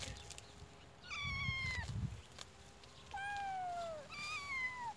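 A small kitten rescued with a sibling meows in a few high, drawn-out calls with falling pitch, fairly close and clear over a quiet room hum.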